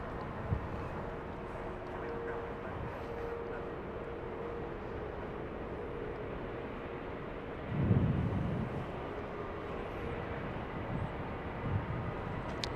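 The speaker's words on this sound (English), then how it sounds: "The A350-1000 heading to the gate." At Los Angeles International Airport, a Qatar Airways Airbus A350-1000 taxis toward the gate, its distant jet engines giving a steady, low rushing hum that swells briefly partway through, with no talking.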